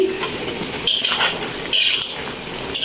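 Fried chicken pieces going into a pan of curry, with metal utensil clinks and scraping against the pan in a few bright bursts over a steady kitchen hiss, close and fairly loud.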